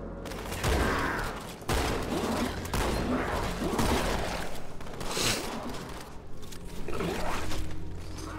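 Shotgun gunfire in the video game Halo 2, dense bursts of game combat with repeated blasts and chaotic battle noise filling the clip.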